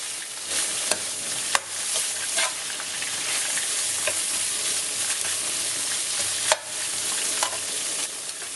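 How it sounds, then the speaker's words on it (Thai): Steady oily sizzling with occasional scraping clicks of a spatula, roast duck being stir-fried with curry paste in a hot wok, close and continuous. "แล้วจึงค่อยนำเป็ดย่างลงไปผัดต่อค่ะ"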